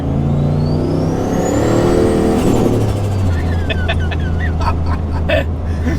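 A turbocharged VY Commodore on coilover suspension accelerating hard, a loud engine note rising in pitch with a climbing turbo whine, then dropping back with a gear change, heard close from inside the car.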